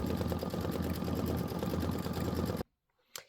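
An Aveneer embroidery machine stitches out a Halloween tile design in a 6x10 hoop, giving a steady, loud, rapid mechanical whirring with a fast needle rhythm. It runs alone and then stops abruptly, followed by a brief faint click.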